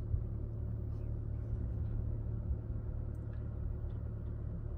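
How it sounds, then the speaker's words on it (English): A Toyota Sienna Hybrid sits parked with its engine running, giving a faint, steady low rumble that stays even throughout with no talking. "here's the engine running"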